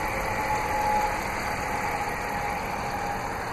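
A 2016 RAM 1500 Rebel crew cab 4x4 with a 5.7-liter HEMI MDS V8 runs at a steady idle, giving a continuous, even engine rumble close by with no talking over it.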